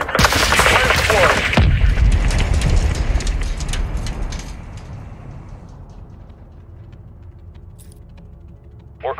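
Heavy gunfire bursts in a Modern Warfare 2 campaign firefight against cartel forces near a school, a loud sustained barrage that cuts off and leaves sparse distant shots and a low rumble fading out.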